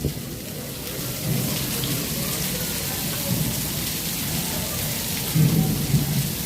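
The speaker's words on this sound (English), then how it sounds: "Where's the thunder that goes with the lightning?" Steady rain falls during a thunderstorm at Epcot, with low thunder rumbles rolling in and swelling near the middle and again toward the end.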